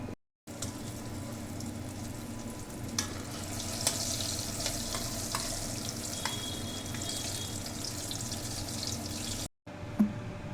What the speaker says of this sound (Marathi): आपले धोंडफळ तळले जात आहे, कमी गॅसवरच तळायचे।